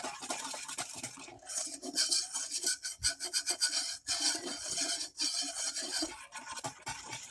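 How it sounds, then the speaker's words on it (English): A whisk works through a flour and milk slurry with vanilla extract in a bowl, giving quick rhythmic scraping and rubbing strokes with short pauses, close up and with no talk. "whisk helps break up all the little lumps of flour."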